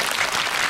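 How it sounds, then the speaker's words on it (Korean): A theater audience at a Korean film screening Q&A for Harbin bursts into applause. The clapping is dense and brief, under a second, with a steady crowd roar. "박수 한번 보내주세요"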